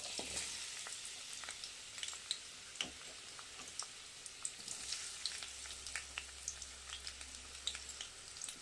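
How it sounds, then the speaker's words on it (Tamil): Cinnamon, cloves and cardamom sauté in hot oil in a pan with onion, a quiet steady sizzle with scattered ticks and pops and light stirring scrapes, with no talk. "பட்டை, கிராம்பு, ஏலக்காய் இது நல்லா வதக்கிக்கலாம்"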